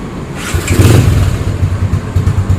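A Yamaha Spark 135 motorcycle with a carburettor and a bored-out 60 mm ceramic cylinder idles close by, its low engine note a steady, even putter throughout with a slight swell partway through.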